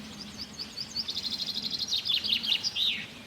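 A small bird sings a quick series of bright chirps and trills close by, rising into a rapid run of notes over a low, steady background hum.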